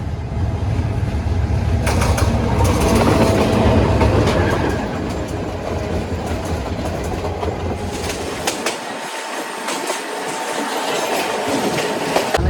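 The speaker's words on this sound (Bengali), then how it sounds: "দেখুন কত ভিড় আজকে ট্রেনে, ঝুলে ঝুলে যাচ্ছি আমরা কমিউটার ট্রেনে" A crowded Dewanganj commuter train runs from Dhaka to Jamalpur, heard close and loud from on board as a continuous rumble with rhythmic clickety-clack and brief wheel squeals, and no voices.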